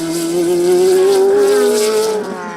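A race car, including a McLaren, passes at Slovakiaring during a Supercar Challenge race, its engine loud and close with a steady high whine that rises slightly in pitch before fading at the end.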